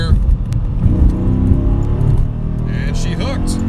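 Dodge Scat Pack engine pulls hard in third gear at about 40 mph, a loud steady roar with rising rumble close to the microphone, while someone talks over it.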